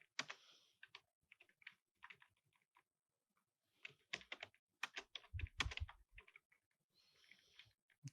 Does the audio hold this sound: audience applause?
no